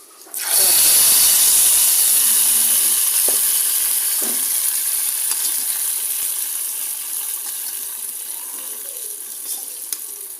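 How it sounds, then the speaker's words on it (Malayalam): Fried mustard seed tempering tipped into a mango curry bursts into a loud, close sizzle and hiss that erupts suddenly, then slowly dies away over about ten seconds, with no talk. "നമ്മൾ കടുക് വറുത്ത് കൊണ്ടുവന്നത് നമ്മുടെ കറിയിലോട്ട് നമുക്കിത് ചേർത്ത് കൊടുക്കാം"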